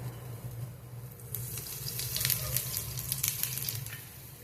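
A flipped cucumber dish (kakdi) frying in a pan with a little oil added at the side: a close, steady crackling sizzle that swells and pops more busily after the first second, with no talk.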